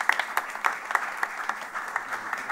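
A small crowd at a choral gala claps steadily, a lively patter of hands with no voices over it.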